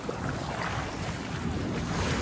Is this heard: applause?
no